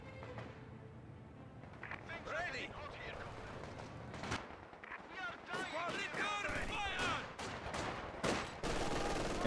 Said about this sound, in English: MG42 inside the building there from the Germans